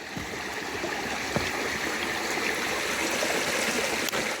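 A river at Dinosaur National Monument rushes and burbles steadily nearby, a continuous broad wash of flowing water with a couple of faint knocks, no voices.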